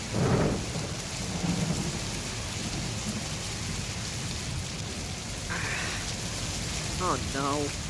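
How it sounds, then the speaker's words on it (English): Steady heavy rain with rumbling thunder throughout a stage production of Charlotte's Web, a broad roar with louder bursts at the start and end, while a voice speaks briefly near the middle. "It's raining."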